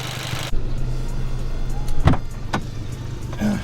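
A Fiat Abarth car with a freshly cleaned AOS system drives along a road, its engine a steady low drone with a window motor whirring briefly at first and a few short knocks later on.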